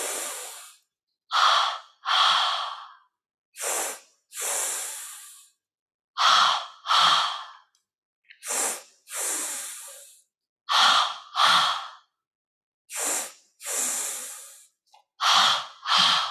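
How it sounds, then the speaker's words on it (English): Slow, deliberate breaths during a yoga lesson, each inhale and exhale a soft airy rush close to the ear, separated by short silences in a steady repeating rhythm, with no talk. "We're starting with five light breaths into the belly."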